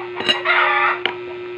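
A rooster crows once, close and fairly loud, a short strained call over a steady electrical hum.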